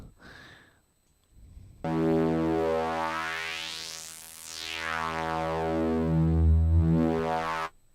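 A buzzy synthesizer tone sweeps through a resonant bandpass filter, its whistling peak rising then falling, sustained for several seconds after a brief blip.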